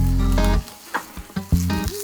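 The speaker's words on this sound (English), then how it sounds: "Preheat the pan and add the shallots." Shallots hit a preheated pan of olive oil with a brief crackling sizzle that comes in short bursts. Music plays over it, and no one speaks.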